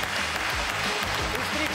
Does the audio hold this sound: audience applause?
yes